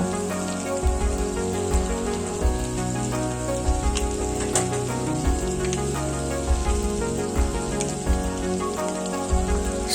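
Soybean chunks seasoned with salt, turmeric and chili powder fry in a pan with a steady crackling sizzle, broken now and then by soft knocks of stirring.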